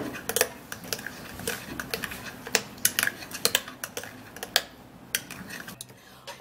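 Carrot and banana face mask being mixed in a bowl, with a steady run of sharp clinks and taps from a spoon against the bowl, close and fairly clear, with no talking.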